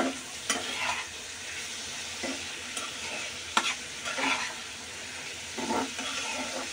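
Boiled cauliflower stalks with chilli powder are stirred and fried in a pan: a constant sizzle under repeated scrapes and knocks of the spatula, heard close up with no talking.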